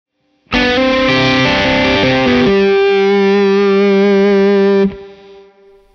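An electric guitar runs through a DryBell Module 4 compressor in fast expander mode: a few picked notes give way to a loud sustained chord that rings evenly, then cuts off sharply, leaving only a faint tail.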